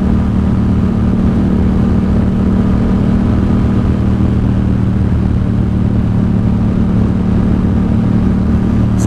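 A Yamaha XSR700 motorcycle fitted with a Two Brothers SR1 exhaust drones loudly and steadily while riding, a continuous deep engine rumble with no talk.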